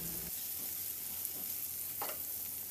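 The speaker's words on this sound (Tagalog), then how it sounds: "Ihalo lang din hanggang sa maluto yung sibuyas." Garlic and onion sauté in a pan, a soft, steady sizzle with occasional light stirring scrapes, faint and fairly distant, with no voices.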